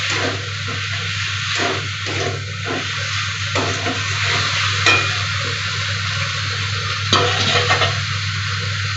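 Tomatoes and vegetables sautéing in a pan for an egg and okra curry, a steady close sizzle with the scrape of stirring throughout over a constant low hum.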